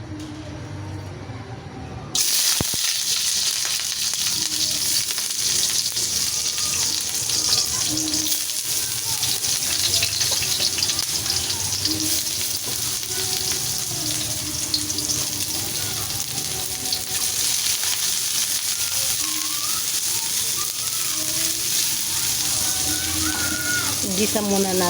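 Shrimp and vegetables such as pakbet greens with spices sauté in a pan, a steady loud sizzle running continuously after a quieter start, with faint kitchen clatter and no talking.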